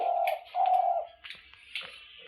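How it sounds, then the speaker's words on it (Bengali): A dove coos near its nest in a tree outside a window, giving two drawn-out soft hooting notes followed by fainter, broken calls, close and clear against a quiet background. "জায়গাটায় ঘুঘু পাখি বাসা বাঁধছে"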